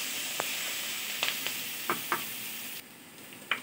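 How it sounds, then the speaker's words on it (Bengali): Raw onions and green chillies frying in hot oil make a bright, steady sizzle with scattered clinks and scrapes of a stirring utensil, close and fairly loud, easing down near the end; no speech. "কাঁচা পেঁয়াজ আর লঙ্কাটা। এটাকে আমি হালকা ভেজে ব্রাউন করে নেব।"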